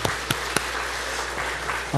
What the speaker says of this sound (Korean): 우리 한번 박수 쳐줍시다.